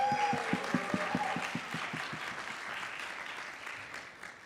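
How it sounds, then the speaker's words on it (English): Applause from a TEDx conference audience, with a few sharp claps standing out early before the clapping thins and trails off. "Let's give them one more round of applause."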